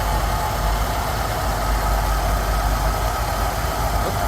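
A Rolls Royce Silver Shadow engine idles at roughly 750 rpm during carburettor tuning, giving a steady, close, loud low rumble with an even mechanical hum and no talking.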